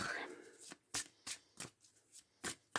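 Tarot cards being shuffled and handled to draw one, giving short crisp riffling snaps in an irregular series of about six bursts, with a voice speaking softly between them.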